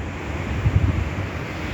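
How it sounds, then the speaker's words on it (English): Ocean waves washing onto the shore with steady wind noise buffeting the microphone, a continuous rushing roar with a slight swell in the middle. "Right on the ocean"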